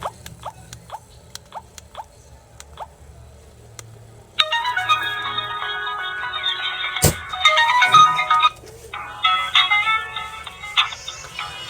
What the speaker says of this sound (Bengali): চলুন দেখা যাক যে ফোনটির রিংটোনের সাউন্ড কতটা প্রকট হয়